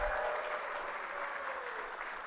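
Dinner-event audience claps for honorees at a hall of fame gala, a sustained, even round of applause from a large room, moderately distant and continuous throughout.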